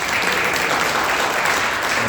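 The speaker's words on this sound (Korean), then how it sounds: "우리 큰 박수로 환영하겠습니다." A church congregation at Sunday worship applauds in welcome of two new teachers, a dense, loud, steady wash of many hands clapping throughout.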